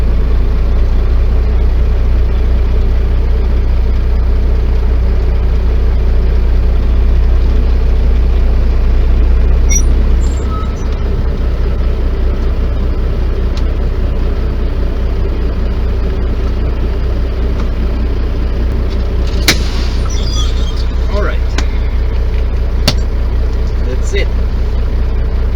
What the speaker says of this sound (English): This is a Tesoro truck stop.